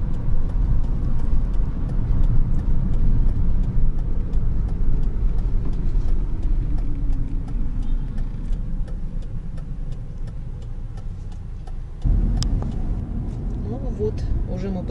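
A car drives slowly through Berlin toward roadside parking, with a low engine rumble and a slowly falling tone. A faint ticking runs throughout, and a brief bump comes near the end.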